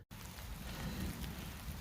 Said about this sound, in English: it's been pouring for a while